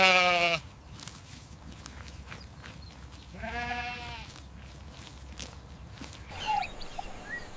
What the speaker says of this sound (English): The sheep bleats.